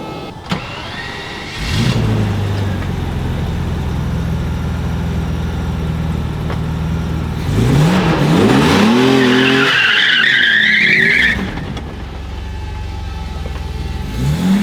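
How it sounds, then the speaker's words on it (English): A V12 BMW E34 revs up and its tires skid and screech in a burnout, the engine roaring loud and close with a rising whine of spinning rubber before settling back to idle. "Let's see if she'll do a burnout"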